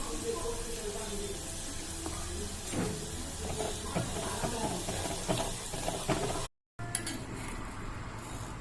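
Mustard-seed tempering sizzles and crackles in hot oil for a homemade mango pickle, a steady hiss with scattered pops running throughout, briefly cut out near the end.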